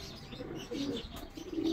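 Soft, throaty pigeon coos rise and fall in short bursts amid quiet chirps and background rustle as the birds bathe and sun themselves; fairly faint, no talking.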